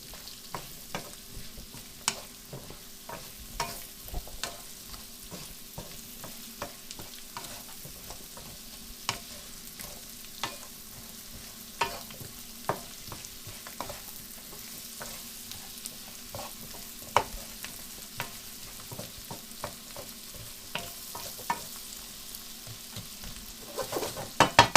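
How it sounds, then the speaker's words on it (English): A spoon works sweet potato pieces through oil and spices in a pan, giving soft, scattered scrapes and taps over a faint, steady sizzle for a long stretch, with no talking. "So just stir them in nicely, make sure they're nicely coated in the oil and the spices."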